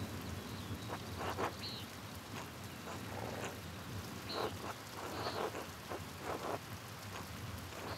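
Rain pours steadily in the video game Pentiment, a constant soft hiss of drops on surfaces with low rumbling beneath and a few brief faint chirps.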